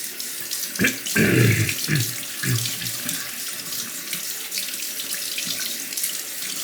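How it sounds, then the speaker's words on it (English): A running tap rinses a knife blade and a Shapton 1500 sharpening stone, with a louder splashing gush early on that settles into a steady stream of water. "Just gonna rinse off the blade real quick. Rinse off the stone."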